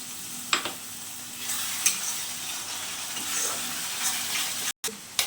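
Garam masala going into a spice mix frying in oil for an egg curry, a continuous close sizzle with occasional spoon taps and scrapes on the pan and one brief dropout near the end.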